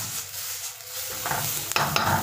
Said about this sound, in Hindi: बहुत ही अच्छे तरीके से हमारा वेजिटेबल को फ्राई कर रहे हैं